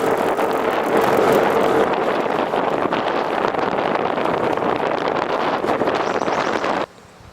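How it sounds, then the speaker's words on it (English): Strong wind out on a lake roars steadily and loudly against the microphone, a broad constant rush that cuts off abruptly near the end. "it's really windy once you're out on the lake"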